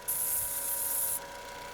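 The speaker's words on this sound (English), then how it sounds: "spray it on the microphone" Aerosol spray hissing onto the engine of a 1999 Ford Fiesta that stalls when cold, a steady close hiss lasting about a second over a low idling engine hum, then cutting off.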